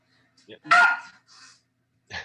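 A dog barks excitedly, a few short sharp barks and yips spaced out over a couple of seconds, close and fairly loud against a quiet background.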